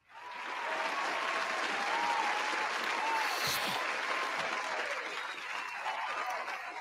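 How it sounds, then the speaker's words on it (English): Applause from a small audience rises quickly and holds as a dense, steady clapping wash for several seconds, fairly soft and distant, with faint voices beneath. "Big round of applause for Bailey."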